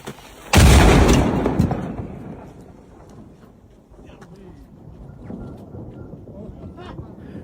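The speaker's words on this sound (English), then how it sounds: "Launched this artillery shell into the top of this mountain here where we see it hit" A World War II-style artillery cannon fires a shell into a mountaintop to set off an avalanche: one sharp, loud boom that rolls into a long, fading rumble, with outdoor wind and a few distant voices afterward.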